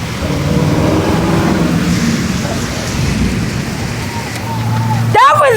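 Severe thunderstorm with steady heavy rain throughout and a sharp, loud thunder crack near the end, with excited voices talking over it.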